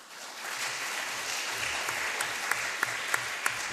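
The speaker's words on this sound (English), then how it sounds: "If I can get a round of applause for Mr." A room of summit attendees applauds a speaker at a youth leaders' conference, a steady wash of many hands clapping with a few sharper claps standing out near the end.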